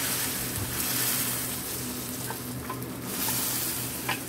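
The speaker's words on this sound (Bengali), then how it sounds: "আমরা রসুন পেঁয়াজের বাগার দিই" A garlic and onion tempering fries steadily in hot oil, with a loud, continuous sizzle and a few soft stirring sounds.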